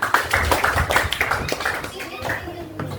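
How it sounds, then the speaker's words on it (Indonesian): Brief hand clapping in an online coding lesson, a few quick claps up front mixed with a presenter's speech that continues over and after them. "Oke, gue tepuk tangan buat Vina."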